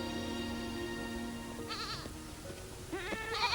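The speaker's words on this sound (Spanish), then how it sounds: "Un rebaño se dirige al aprisco." Goats bleating as a herd moves toward its fold, several wavering bleats around the middle and end of the stretch over a steady low background hum.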